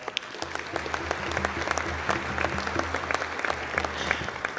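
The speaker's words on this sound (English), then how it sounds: "Big thank you to all of them and a round of applause." At a school convocation, a large audience gives steady, sustained applause for the graduation committee and staff, a dense wash of many hands clapping alone with no voices and a low hum underneath.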